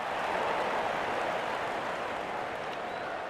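A cricket crowd roars in a steady, dense wash of cheering and applause as a batter is bowled, the noise broad and sustained from start to finish without letting up.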